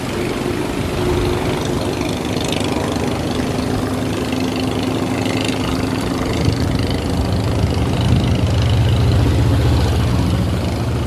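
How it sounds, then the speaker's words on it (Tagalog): A steady, rumbling engine-driven air compressor drones on without a break, loud and close, with a low mechanical chug and no voices over it, at Taal Volcano. "yung motor na maingay, oh. Naririnig nyo."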